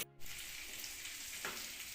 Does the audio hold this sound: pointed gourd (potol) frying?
yes